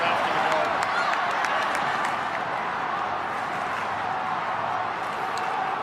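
Stadium crowd noise at an AFL qualifying final between Port Adelaide and Collingwood, a dense, steady roar of thousands of fans lifting and cheering throughout, loud and continuous with no clear pauses.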